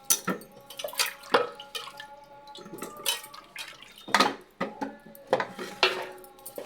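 Potatoes and peas being rinsed under a running kitchen tap, with irregular splashes, drips and clinks of vegetables against a metal bowl, close and fairly loud with no talking.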